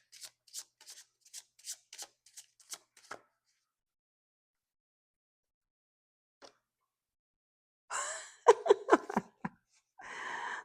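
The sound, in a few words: deck of tarot cards being shuffled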